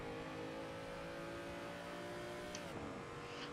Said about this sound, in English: Back on the gas, full throttle.